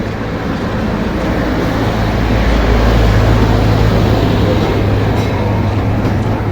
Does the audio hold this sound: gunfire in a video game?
no